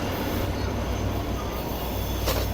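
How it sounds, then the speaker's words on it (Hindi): Train crossing the Kotri Bridge at high speed, a steady broadband rumble of wheels and rolling stock with a brief sharp burst near the end, continuous and close, with no talk. "बहुत ज़बरदस्त स्पीड में ट्रेन ने स्किप किया है कोटरी ब्रिज को"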